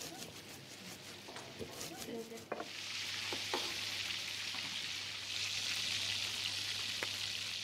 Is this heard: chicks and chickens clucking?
no